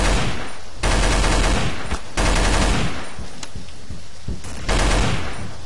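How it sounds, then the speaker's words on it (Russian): Machine gun fire in the video game Garry's Mod, loud sustained bursts of rapid automatic shots broken by short pauses, close and dominant with no talk. "пулемет на дальнее расстояние вообще дерьмо"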